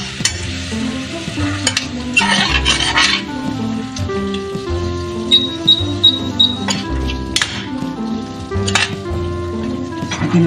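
Water goes into a hot pan of sweet and sour fish, raising a loud, crackling sizzle mixed with scraping stirs and irregular bright bursts, close and continuous.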